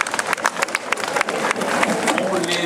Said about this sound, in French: Voilà, ils sont partis, on les applaudit très très fort.